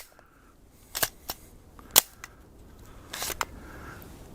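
Several sharp handgun shots crack out at irregular intervals outdoors, a couple strong and close and others fainter, with quiet ambient noise between them.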